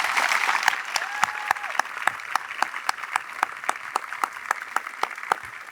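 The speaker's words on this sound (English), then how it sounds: "give you one collective round of applause, please." Steady applause from a commencement audience at the Sanford School graduation ceremony, many hands clapping together in a dense, even wash that holds throughout with no talk over it.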